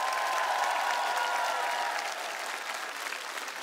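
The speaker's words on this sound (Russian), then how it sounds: "Им аплодисменты." Applause rolls through the audience of a televised singing competition, a thick, even wash of clapping that eases slightly in volume partway through but carries on to the end.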